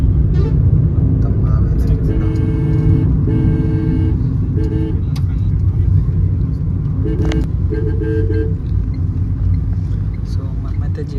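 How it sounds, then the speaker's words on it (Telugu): Heavy road traffic near a hospital roars loud and continuous, with engines rumbling close by and horns honking repeatedly through the din. "అసలు ఫుల్ అంటే ఫుల్ హెవీ ట్రాఫిక్ ఉందన్నమాట"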